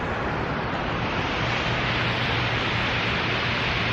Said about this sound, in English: lots of waterfalls